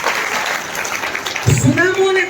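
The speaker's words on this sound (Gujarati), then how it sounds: "ત્યારે જોરદાર તાળીથી કૃષ્ણ ભગવાનને અને આજના પ્રસંગને આપણે વધાવીએ।" Loud crowd applause at a school Janmashtami celebration fills the hall as dense, steady clapping, then a voice begins speaking over its fading end.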